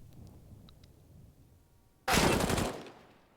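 Gunfire in a Counter-Strike match on the Train map, a short dense burst of shots that cuts in suddenly after a quiet stretch and stops within about half a second.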